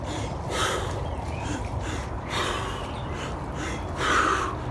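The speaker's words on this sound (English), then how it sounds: "So I'll breathe in to the abdomen, to the chest, and then forcefully exhale" Forceful hyperventilation breathing, deep inhales into abdomen and chest followed by strong forced exhales, three breath cycles close to the mic, rushing and airy.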